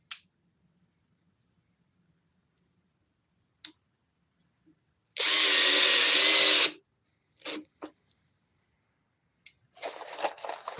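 A power drill in drill mode on speed 3 whirs in one loud burst lasting about a second and a half as it bores into knotty wood, framed by scattered clicks and short mechanical bursts in an otherwise quiet space.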